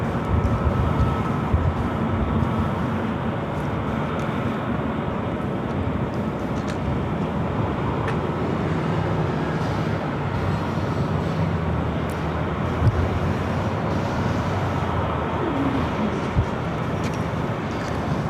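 A Delta Airbus A321neo takes off from runway 24 left at Los Angeles International Airport, a steady broadband jet roar heard from a distance for the whole stretch.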